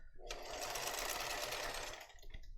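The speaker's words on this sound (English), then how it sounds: "I'm gonna lock stitch that before I make this corner." Sewing machine lock stitching a seam on a purse-size canvas tote bag, a loud, steady motor whir with rapid needle clatter running for about two seconds before cutting off.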